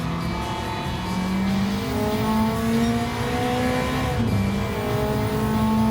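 A race car in Gran Turismo 7 online racing, engine droning loud and close while revs climb and fall through downshifts, with tires hissing underneath, continuous and without talk.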